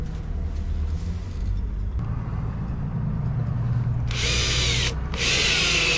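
A power drill drives screws into a waterproof outdoor outlet box on a self-built cabin, two loud close bursts of high whirring separated by a short pause, following a low steady background rumble.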